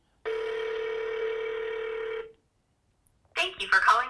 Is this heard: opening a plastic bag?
no